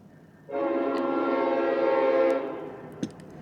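A train rumbles past, a loud steady roar that swells, holds for a couple of seconds, then fades, with a brief sharp clank near the end.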